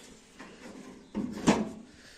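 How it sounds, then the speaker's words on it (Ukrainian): The hood of a T-25 tractor is closed, a faint rattle followed by a sharper metallic thud and a brief clatter against quiet surroundings. "Так, Закриваємо капот."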